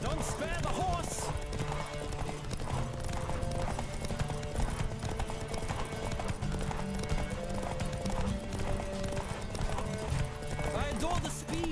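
A horse gallops in The Witcher III, its rapid hoofbeats drumming steadily for several seconds under game music, with spoken dialogue over the top.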